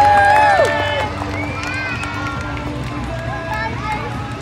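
A large outdoor crowd at a hot air balloon festival makes a steady roar of cheering and noise under a loud voice over a public address system.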